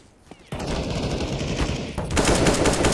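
Rapid automatic gunfire in the game CS:GO. After a quiet half second it bursts into loud, continuous shooting, growing even denser and harsher toward the end.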